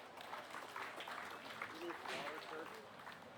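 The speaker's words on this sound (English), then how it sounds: "Let's give those young people a round of applause" Audience at a county beef show claps for young cattle exhibitors, a soft, steady wash of applause heard from a distance at low volume.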